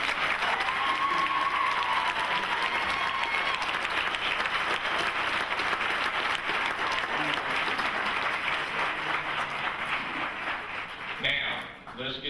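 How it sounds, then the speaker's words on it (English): A graduation audience claps in a long, full round of applause that stays dense and steady for about ten seconds, then fades out as a voice begins. "Let's give them a round of applause."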